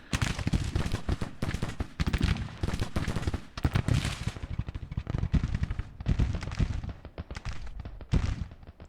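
Dense, continuous musket volleys crackle and pop in the Grand Tactician: The Civil War video game, with overlapping rapid shots and heavy thuds in a busy, loud battle din and no talk.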